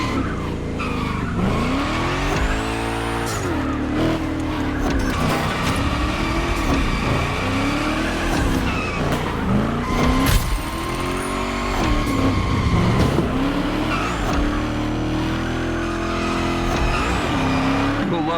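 A car slides through gymkhana training in the racing game The Crew Motorfest, with repeated tire squeals and skids over a revving engine, in rhythmic bursts of sliding.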